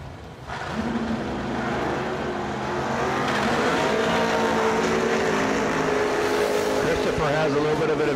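Wheelie-popping dragster launching at a drag racing event, a loud sustained engine roar rising and holding steady as it pulls away down the strip, with faint talk underneath.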